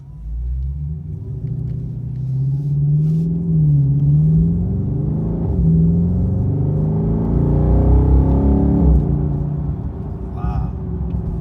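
A Dodge 392 Scat Pack V8 rumbles deep and loud in track mode, revving up and dropping sharply through several aggressive gear shifts, with the engine note rising and falling continuously.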